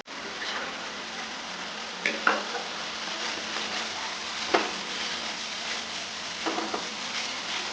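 Masala frying in oil in a pan for Dhoraji-style spicy garlic bhungra batata, a steady close sizzle with a few light clinks and stirring scrapes scattered through it.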